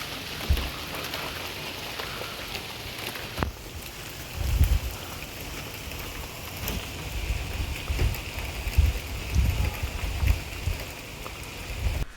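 Steady rain pattering on a roof top tent at night during a heavy downpour, a constant soft hiss with scattered heavier drops thudding close by, no voices.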